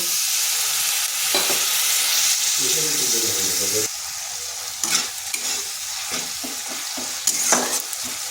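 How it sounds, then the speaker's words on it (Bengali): Spice paste for a fish curry sizzling in a pan with repeated spatula scrapes and stirring bursts, close and fairly loud, a faint voice briefly underneath. "মশলাটা একটু কষে নিচ্ছি"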